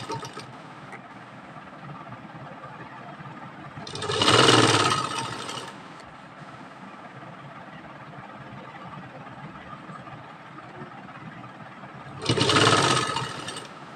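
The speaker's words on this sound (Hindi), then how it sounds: "अब इसी तरीके से रखकर पूरे दुपट्टे पर सिलाई लगा देनी है।" A sewing machine stitches lace onto the border of a dupatta in two short bursts of mechanical whirring, around the fourth and twelfth seconds, separated by quiet room hiss.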